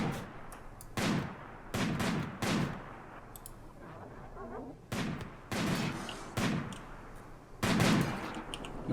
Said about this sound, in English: These guys do great work with those snipers.